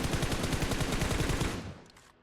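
Rapid automatic gunfire in the mobile battle-royale game PUBG Mobile, a dense, loud burst of evenly spaced shots close up that runs for about a second and a half before cutting off into a short fading tail.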